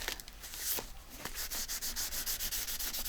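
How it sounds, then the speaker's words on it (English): Fingers rub dried glue off a paper cover with brisk, close scratchy strokes, a dry rhythmic scrubbing hiss that speeds into steady repeated passes. "Let's see if we can rub it off."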